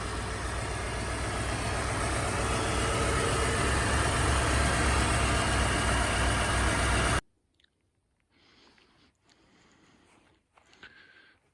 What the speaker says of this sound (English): Motor sounds nice, quiet, a lot better than when we first fired it up.